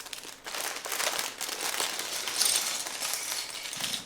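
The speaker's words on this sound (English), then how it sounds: "And let's rip them open, shall we?" Plastic parts bags for a Cobra H.I.S.S. construction set being ripped open, a continuous close crinkling and tearing of thin plastic lasting several seconds with no talking.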